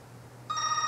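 Telephone ringing in electronic tones that begin partway through, sounding alone over a low steady hum, close and clear.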